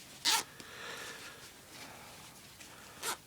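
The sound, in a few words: plastic zipper on combat trousers lower leg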